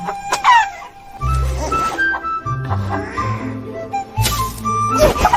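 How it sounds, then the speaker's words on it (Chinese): A rooster being handed over in a period drama setting gives short clucks and squawks amid busy background sound effects, with voices talking nearby. "这只公鸡给你补身子。"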